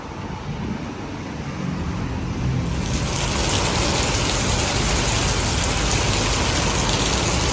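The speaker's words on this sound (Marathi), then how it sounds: "दिवाळीचा पाऊस पडतोय" Rain falling steadily, growing heavier partway through into a dense, loud patter on surfaces, with a faint hum of traffic underneath.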